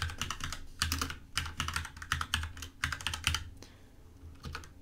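Rapid typing on a computer keyboard while renaming a game file for a Raspberry Pi RetroPie setup, bursts of close, crisp key clicks with brief pauses and no voice.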